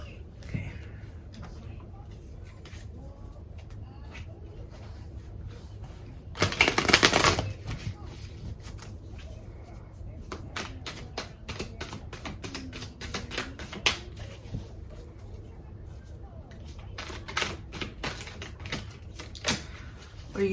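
A Mystic Mondays tarot deck being shuffled: soft card riffles and flicks come in short bursts, with one louder rustling burst midway and clusters of sharp card snaps later, close and fairly quiet.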